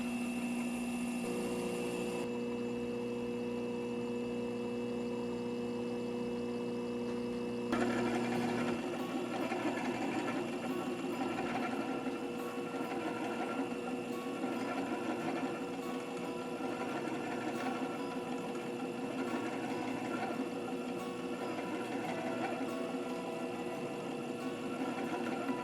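Faceting machine at work cutting and polishing a fluorite gemstone, a steady mechanical whir and hum that runs continuously, growing slightly busier and rougher after the first several seconds, with no talking.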